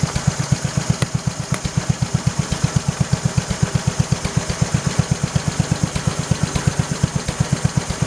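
A 1968 Kohler 112 engine running with a miss: a steady rapid idle thump with an uneven beat, close and continuous for several seconds, no voices.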